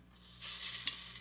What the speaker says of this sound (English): So I want the pan pretty hot, so when I drop that shrimp in there, it begins to sear right away